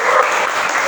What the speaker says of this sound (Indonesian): Boleh tepuk tangan dulu buat bertiga